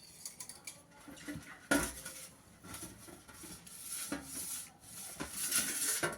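A metal plate being greased with oil for dhokli, with soft clinks, scrapes and rubbing of a spoon against the metal, irregular and close by, with a couple of sharper knocks.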